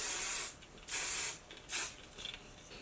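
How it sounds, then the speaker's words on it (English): Three bursts of aerosol spray hiss, each about half a second long, separated by short pauses, close to the microphone. "And I'm going to spray."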